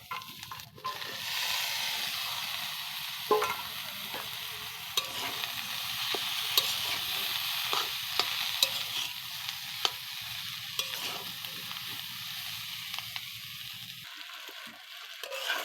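Pointed gourd with egg frying in a pan, a steady close sizzle broken by repeated sharp scrapes and taps of a spoon stirring against the metal, then a brief pause near the end.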